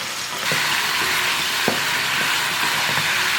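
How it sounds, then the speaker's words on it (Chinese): Pork ribs with tangerine peel are stir-fried over high heat as their sauce reduces, making a close, continuous sizzle broken by a few clanks and scrapes of stirring in the pan. "收汁的过程呢要不停的翻炒，这个汁呢它会越收越浓稠"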